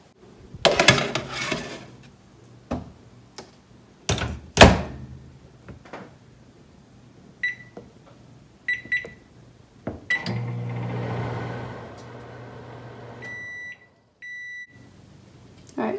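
A microwave oven runs for several seconds with a steady hum while bacon cooks in a bacon maker, broken by door clunks, sharp electronic beeps and a few clicks.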